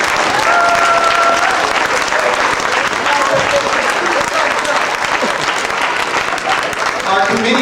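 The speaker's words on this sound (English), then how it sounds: "Could you give him a round of applause, please?" An audience at a church stake roadshow event applauds steadily and loudly for several seconds, a dense continuous wash of clapping with faint voices mixed in.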